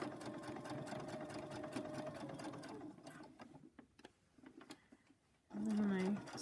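Sewing machine stitching a fabric face mask with ties, running steadily up close for about three seconds, then stopping and starting in short bursts before a louder run near the end.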